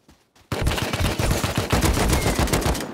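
Rapid automatic gunfire erupts in an online survival shooter during a clan base raid, with loud, close bursts of overlapping shots that rattle steadily for several seconds after a short quiet start.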